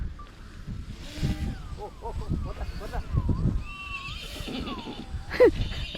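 A horse neighs and whinnies in repeated rising and falling calls, fairly close, with people talking intermittently around it.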